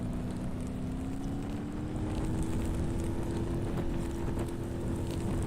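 Fire roaring from a ruptured fuel tank on a crashed vehicle in the BeamNG driving game: a steady, moderately loud whooshing rumble with a low engine-like hum running underneath throughout.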